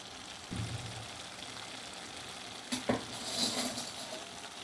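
Cooked rice being stirred and mixed into tamarind paste in an oily pan, with soft scraping and a faint sizzle, a couple of louder clinks of the spoon against the pan partway through.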